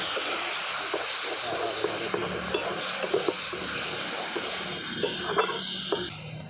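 Ginger-garlic paste and a little water hissing in a hot pan over fried tomatoes and onions, a steady close sizzle with scattered stirring clicks throughout.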